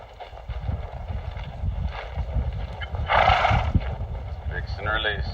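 A horse whinnies once near the middle during flag desensitising groundwork meant to free its feet, over steady wind rumble and low shuffling hoofbeats, with a faint voice present.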